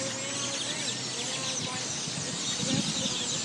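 Dense bird chirping fills the air at a Walmart on Highway 6 in Missouri City, a busy, continuous chatter of many small birds at moderate distance with faint background noise.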